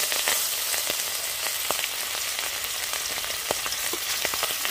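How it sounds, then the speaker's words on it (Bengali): Hilsa fish pieces fry in hot mustard oil with a continuous crackling sizzle, spattering in scattered sharp pops, moderately loud and with no talking. "তেল গরম হয়ে গেছে, মাছগুলো দিয়ে দিচ্ছি।"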